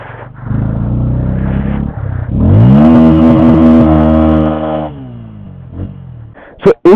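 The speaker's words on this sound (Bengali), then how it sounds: "এই হচ্ছে আমার সেই বাইক।" A touring motorcycle fitted with a rear top box and a tank bag, riding from Lachung to Zero Point in North Sikkim, rumbles close and loud, then revs sharply upward, holds, and settles back down, with brief clicks at the end.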